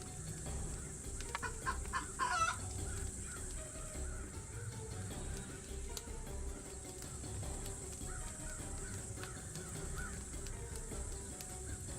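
Chicken clucking in a colony-sim video game, a mix of Rimworld and Dawn of Man style, with short fowl calls scattered over a steady background hum, moderately faint and unaccompanied by talk.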